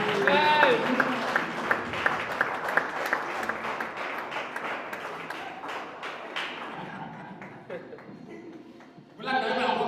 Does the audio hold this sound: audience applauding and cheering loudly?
yes